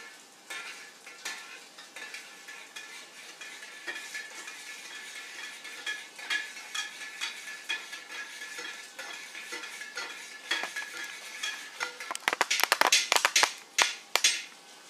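A spoon scrapes and clinks against a pan while scrambled eggs are stirred, steady rhythmic scraping with a soft sizzle beneath, growing louder and sharper with clattering knocks near the end.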